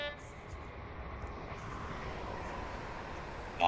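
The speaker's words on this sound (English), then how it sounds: "Or just let your train just drive past you." An HST passenger train in Train Simulator 2021 rolls past with a steady, broad rumble that holds evenly for a few seconds, then swells louder at the very end.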